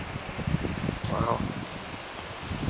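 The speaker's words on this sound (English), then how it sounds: "Wind's picking up a little bit." Gusting wind ahead of a storm front in northwest Iowa buffets the microphone and rustles nearby leaves, a steady rough roar with a voice speaking over it.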